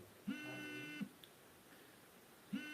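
A mobile phone goes off during a chemistry class, giving a short electronic ring or buzz tone that repeats twice with a gap. It is faint, and there is no talk over it.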